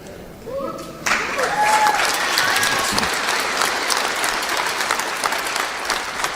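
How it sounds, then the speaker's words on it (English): An audience at a spiritual talk breaks into loud, sustained applause, a dense, even wash of clapping that starts suddenly and keeps going. "And there you go, applauding yourselves again."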